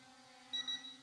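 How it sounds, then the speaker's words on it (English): Obstacle-avoidance alert on an RG600 Pro brushless optical-flow drone: a faint, high electronic beep pattern, two short chirps at once followed by a steady tone, over a low motor hum. "Obstacle avoidance should now be on. Hearing the double beeps."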